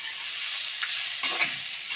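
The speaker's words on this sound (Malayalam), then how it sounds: "എടുത്തേക്കുന്നത് നല്ലപോലെ ഇളക്കി കൊടുക്കാം സവാള നല്ലപോലെ മൂത്ത് വരണം" Onions being stirred and fried in a pan for chicken perattu, giving a steady, close sizzle with light scraping and clinking from stirring, no voices.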